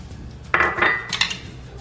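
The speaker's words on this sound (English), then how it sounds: "So the last thing is we add the pineapples and stir it around." A utensil clinks and scrapes against a pot as pineapple is stirred into sweet and sour meatballs, with two bright metallic clatters over a quiet background.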